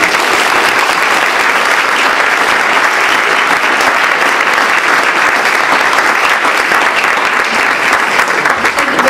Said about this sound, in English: Please give a warm round of applause for Dr. Camila Alire.